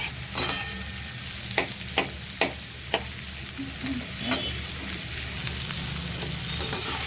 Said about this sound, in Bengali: পেঁয়াজটাকে লাল লাল করে একটু ভাজতে হবে।